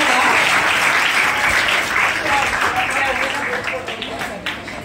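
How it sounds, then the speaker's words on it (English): A crowd applauds at a school leaders' investiture ceremony, with loud, dense, continuous clapping throughout that eases slightly near the end. "Big round of applause."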